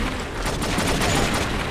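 Dense bursts of gunfire in the True Crime: New York City video game form a loud, rapid, continuous volley with no talk over it.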